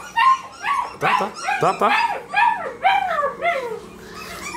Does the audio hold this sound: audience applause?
no